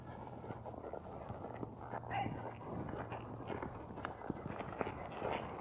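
Horse hooves clip-clopping in the dirt while cutting cattle: quick, irregular footfalls and shuffling steps at moderate distance, fairly faint against a steady outdoor background.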